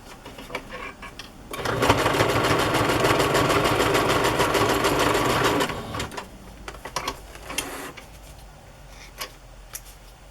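A sewing machine stitching down a pocket on a journal page runs in a loud, steady rapid whir for about four seconds, then stops, followed by quieter handling clicks and rustles.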